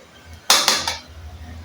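Two small metal sugar spoons clink and scrape as they scoop, three quick bright knocks close by in just under half a second, then quiet, with no talking.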